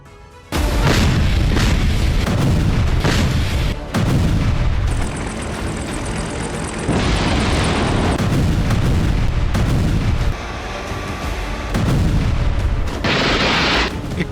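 Heavy artillery fire and explosions from the Russia-Ukraine war, a series of loud booming blasts with rumbling decay, several strong bursts in close succession, plus sharper crackling bangs, with no talk.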